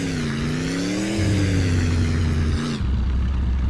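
A tractor engine in the driving game My Summer Car revs hard in a loud, steady drone, its pitch climbing and then shifting before it suddenly drops back to a lower idle near the end.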